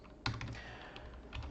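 Keys on a computer keyboard clack in a few quick, soft taps with a pause between bursts, close but quiet, while someone types in RStudio.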